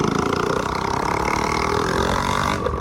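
Yamaha MT-15 motorcycle with an Akrapovic exhaust idling nearby, a steady loud rumbling throb that runs unbroken throughout.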